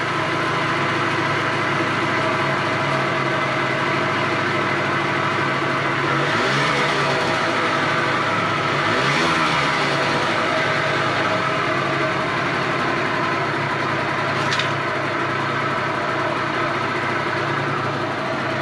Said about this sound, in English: We've finally got the engine running properly.